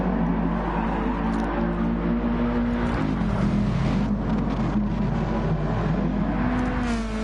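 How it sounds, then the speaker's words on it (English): Race car engines drone and rev in a PS4 racing game, a continuous loud motor hum with shifting pitch and a brief surge midway, steady throughout with no talk. "Seems like Jerry Smiles has got plenty of beans in that car of his"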